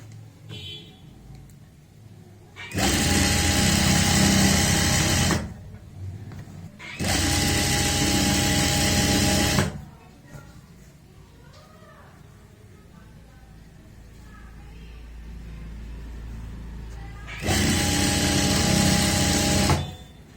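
A sewing machine stitches a border onto a kurti in three loud, fast runs separated by pauses, with quieter rustling and handling of fabric between the bursts.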